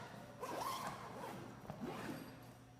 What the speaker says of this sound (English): if you've done that correctly, it zips up very nicely